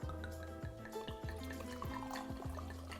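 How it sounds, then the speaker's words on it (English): Red blend wine poured from a bottle into a glass, a series of rhythmic glugging gurgles that bubble and repeat close by, quiet and alone. "I am gonna pour the wine"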